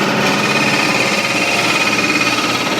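Wooden top spinning on a wood lathe as a cutting tool rides and pushes into the wood, a steady, dense whirring hum with rough scraping texture, continuous and close throughout.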